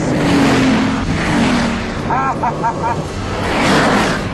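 A 1,000-horsepower Bugatti Veyron accelerates at very high speed, a loud continuous roar of engine and rushing wind that swells and fades slightly.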